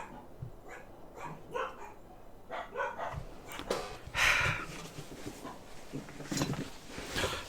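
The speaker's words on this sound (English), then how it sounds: "Dogs just randomly start barking." Several dogs barking in scattered, irregular bursts, some yips and whimpers among them, moderately close with quieter gaps between outbursts.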